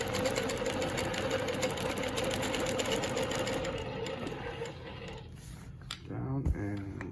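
A longarm quilting machine stitches Baptist fan patterns along quilting rulers, a steady fast mechanical whir with rhythmic needle clatter that slows and stops near the end, followed by brief soft handling noises.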